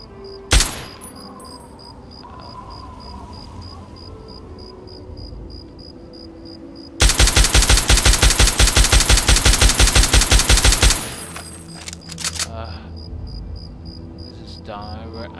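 Automatic gunfire aimed at a hostile robot in Fallout 3, a loud rapid burst of evenly spaced shots lasting several seconds, with quieter game ambience and a single sharp shot earlier.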